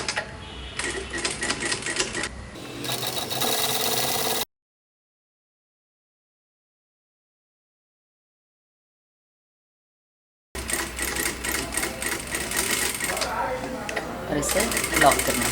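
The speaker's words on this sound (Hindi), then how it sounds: "इसी के ऊपर इसे रख के एक टॉप स्टिच लगानी है" Sewing machine running fast top-stitching a blouse, a steady close mechanical rattle of the needle in two long bursts separated by a stretch of silence.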